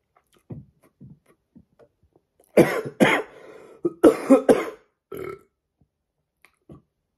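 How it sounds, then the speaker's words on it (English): One person burps several times after eating a large pile of McDonald's chicken nuggets, giving short gassy belches with throaty bursts and quiet pauses between them. "I've got a big gassy burp that's just sitting here"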